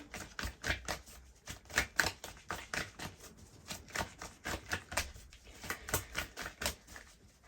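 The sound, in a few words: oracle cards being pulled and shuffled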